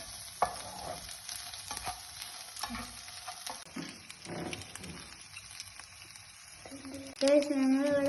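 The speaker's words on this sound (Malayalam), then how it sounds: "അടുത്തതായി അത് കോൺ ഇടാൻ പോവാണ്. സ്വീറ്റ് കോണാണ് നമ്മൾ മിക്സാണ് ചെയ്യേണ്ടി." Sweet corn is stirred in butter in a pan, making a soft, steady sizzle broken by scraping stirs. A voice briefly joins near the end.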